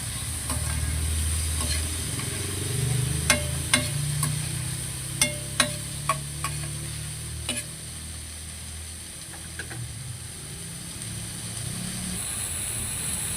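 Tomatoes go into a pan for fish sinigang and get stirred: a soft continuous sizzle with a series of sharp clinks of a spoon against the pan in the middle, all fairly quiet and close.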